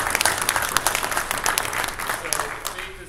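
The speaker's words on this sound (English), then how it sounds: "Round of applause for Faith." A convention panel audience about Valiant comics applauds in a dense, steady burst of many hands clapping close by, with a few voices mixed into the crowd noise throughout.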